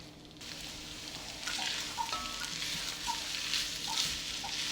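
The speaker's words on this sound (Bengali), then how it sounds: "আমি এটাকে ভালো করে মশলার সাথে কষিয়ে নিচ্ছি" Old Dhaka style khatua is stir-fried with spices and lentils in a pan, giving a steady close sizzle with light scraping and occasional clinks of the spatula.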